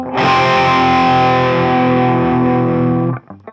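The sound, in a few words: electric guitar whammy bar pushed with the thumb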